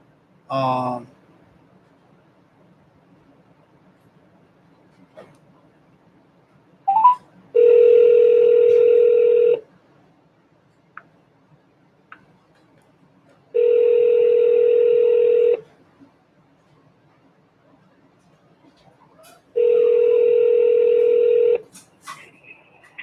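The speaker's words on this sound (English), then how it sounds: "I'm gonna make a few more phone calls to people who called in." Phone line tones for a call-in radio show: short beeps and a chirp, then three long steady ringback tones separated by silent gaps, loud and close.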